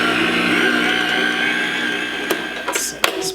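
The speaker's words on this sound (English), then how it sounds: "Now I'm going to put down my mixer and just whisk it around till it blends together." An electric hand mixer whisks a potato meatloaf mixture in a bowl, a steady close whirring hum that runs on and then gives way to a few knocks and clatters as it is set down.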